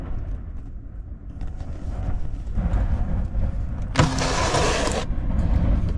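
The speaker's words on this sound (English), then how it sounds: "that wind that we've been trying to avoid has found us" Strong spring wind buffets a caravan at a campsite, a steady loud roar with gusty swells and a harsh burst of rushing noise near the end.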